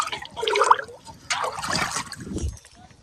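Irrigation water released onto a farm field gushes and trickles nearby in two short surges, with a faint voice underneath.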